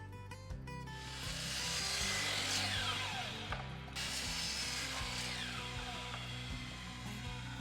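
A polycomposite vinyl railing is cut to length with a power saw: a steady, close mechanical whine with a harsh ratcheting buzz that runs almost without a break, dipping briefly midway.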